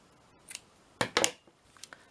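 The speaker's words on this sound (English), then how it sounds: "Let me just cut this off." Scissors snip off excess ribbon while a bow is being made, giving two or three quick, close cuts around a short pause, with near silence around them.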